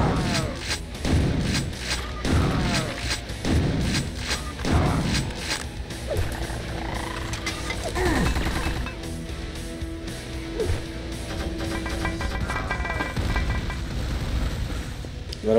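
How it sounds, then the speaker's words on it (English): Explosions and gunfire crash repeatedly in the Quake 2 video game, with dense bursts early on and busy weapon and effect noise continuing throughout. "A lot of explosions going on there."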